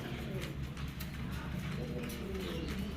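Pigeons coo faintly amid a steady low hum, the calls blending into continuous background noise with little distinct rhythm.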